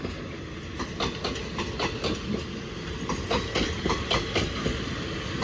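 Thai ordinary train 234 from Surin to Bangkok, hauled by a new locomotive, rolls into Bang Sue Junction. Its wheels beat a steady clickety-clack over rail joints above a constant rumble, close by and fairly loud.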